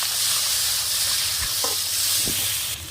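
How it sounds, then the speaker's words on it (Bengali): Turmeric, chili and cumin powders with ginger-garlic paste and salt fry in hot oil with a loud, continuous sizzle, broken by a few light scraping stirs. "হলুদ গুঁড়ো, লঙ্কা গুঁড়ো, জিরে গুঁড়ো, আদা রসুনের পেস্ট ভালোভাবে কষিয়ে নেব।"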